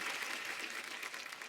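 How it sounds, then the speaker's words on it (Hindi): Studio audience applause for actress Kriti Sanon on a comedy talk show, a dense, steady wash of clapping from a large crowd, moderately loud throughout the short burst. "एक बार जोरदार तालियां कृति के लिए"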